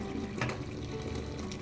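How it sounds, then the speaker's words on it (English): Steady rushing hot water runs into a sink, a continuous wash of noise with a brief louder burst near the start. "Let me go pour the hot water."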